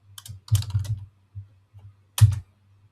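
Computer keyboard typing in short bursts, a quick flurry of keystrokes, a pause with a few isolated taps, then one more brief burst, close and clear against a quiet background.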